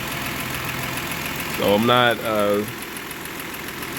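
A Toyota engine with a misfire idles steadily with a low, uneven rumble and a faint knock. Someone speaks briefly over it partway through.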